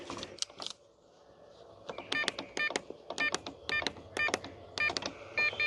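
An RV remote keypad door lock on a Forest River Cedar Creek 391WOW beeps as a password is entered, giving a quick run of short electronic key tones after a few soft presses, close and clear with no talk.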